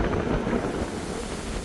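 Wind gusts roughly and steadily across an open outdoor spot in the Lusail district of Doha at night, a loud broadband rush that buffets the microphone with a low rumble throughout and no voices.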